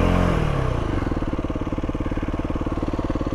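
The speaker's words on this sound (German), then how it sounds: "Also der Begrenzer hört sich schon echt geil an." A 2021 Aprilia SX 125 motorcycle fitted with an Arrow exhaust, revved hard into its rev limiter: a loud, close engine roar settling into a rapid, steady stuttering pulse as the limiter cuts in.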